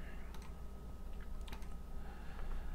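A computer keyboard is tapped softly to enter a command in a Linux terminal, a few scattered keystrokes over a low steady background hum.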